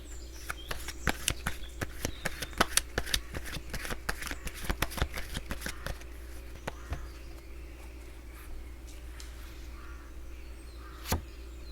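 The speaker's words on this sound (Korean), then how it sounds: "그러면 체리님을 위한 조언 카드 한 장 뽑아보도록 하겠습니다" Tarot cards being shuffled and a single card drawn from the deck, a rapid flurry of crisp card flicks and snaps close by, tapering to a few soft rustles and one final sharp snap as the card comes out.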